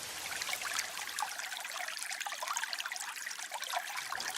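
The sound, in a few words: heavy rain falling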